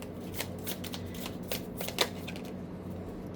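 Tarot cards are riffled and shuffled repeatedly in quick bursts, crisp and close, with a brief louder snap partway through.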